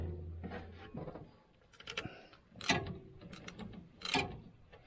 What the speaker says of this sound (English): And then you'll want to very lightly tighten this one down.